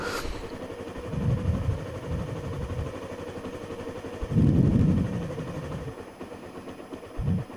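A motorcycle engine idles at about 1000 RPM while warming up, a steady low putter with a few swelling pulses of rumble, heard close and without talk.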